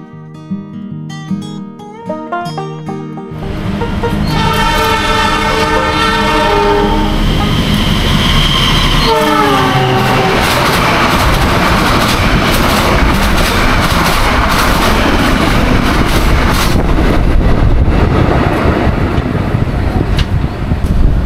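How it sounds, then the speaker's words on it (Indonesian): The Argo Wilis train's horn sounds in sharp blasts, then the train roars past up close with a continuous loud rumble and clatter of wheels on rails, in Indonesia. "Argo Wilis baru saja lewat dari arah stasiun Surabaya menuju ke stasiun Bandung"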